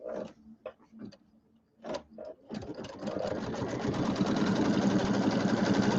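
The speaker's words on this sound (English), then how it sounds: "Put this back in my machine, and then we're going to stitch the tacking stitch." A sewing machine stitches a tacking line on a quilted penguin mug rug, starting after a few small clicks and then running in a steady, fast whirring hum to the end.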